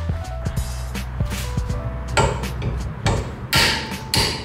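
Wrench work on a Ford Mustang's axle nut, a run of sharp metallic clicks and knocks that grows denser and louder toward the end, close by with no talking.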